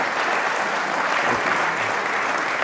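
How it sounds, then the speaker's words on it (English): An audience at a governor's roundtable on federal Opportunity Zones gives a dense, sustained round of applause, loud and even throughout. "you please give that a round of applause"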